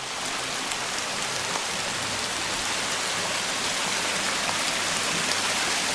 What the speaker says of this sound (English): it's been raining for about 24 hours straight now